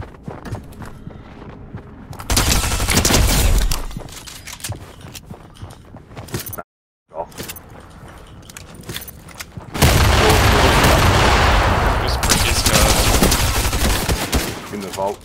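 Bursts of video game gunfire from a battle royale shooter, loud fusillades and rapid automatic fire in two long stretches with a brief silent gap between them. Players talk over the shooting.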